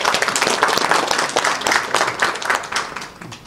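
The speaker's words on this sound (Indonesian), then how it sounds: "tepuk tangan" An audience at an Indonesian football federation inauguration gives a burst of hand clapping, dense and lively at first, then thinning and fading toward the end.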